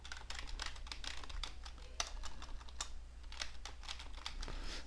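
Keys on a computer keyboard are typed at a steady, rapid pace with crisp, close clicks, entering a SQL command. No voices are heard.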